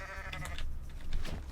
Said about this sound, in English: Stupid goat.